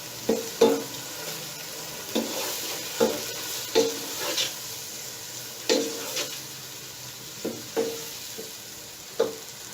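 A pan of green pea pulao sizzles as five or six tomatoes and two tablespoons of salt go in, with a series of sharp scraping and clattering spoon strokes at irregular intervals over a low frying hiss.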